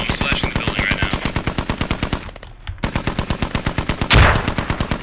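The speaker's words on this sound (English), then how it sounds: "So we're taking fire, Sabo Mark." Automatic gunfire in the video game Squad: loud, close, rapid bursts of evenly spaced shots that run almost continuously, with a brief lull midway and one heavier blast near the end.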